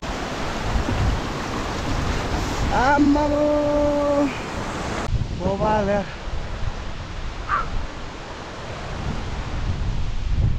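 Strong wind on a high mountain trek between Khopra and Khayer Lake roars as steady broadband rushing through the whole stretch, with brief voices speaking partway through.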